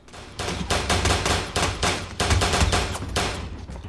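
Rapid gunfire in a Community TV episode, a dense string of sharp shots in uneven bursts lasting a few seconds, loud and up front with no talk.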